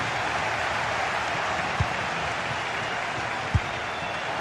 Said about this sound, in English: just listen to this crowd. They want a bit more.